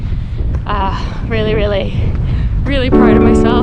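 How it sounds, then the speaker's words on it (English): Coastal wind on the Camí de Cavalls hiking trail buffets the microphone with continuous low rumbling gusts, partly masked by a close voice speaking over it. "Oh, it's windy. It's very windy."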